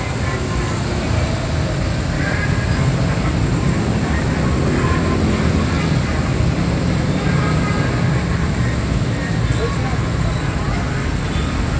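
Dense road traffic around Cibadak after the Bocimi toll exit, with a steady, loud rumble of engines, buses and trucks throughout, heavy low-end noise and no pauses.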